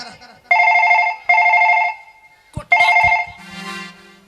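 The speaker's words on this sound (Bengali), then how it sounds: "ফোন এসে দাঁড়া দাঁড়া" A telephone rings in repeated bursts of a bright electronic two-tone ring, loud and close, with a voice and clatter breaking in between the rings.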